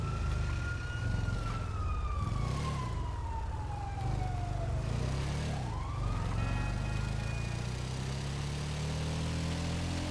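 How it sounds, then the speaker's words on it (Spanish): Police car sirens in a roleplay video game server wail continuously, rising and falling in pitch across the whole stretch, loud and steady over a low engine rumble with no talking. "Es que van haciendo ahí con las sirenas."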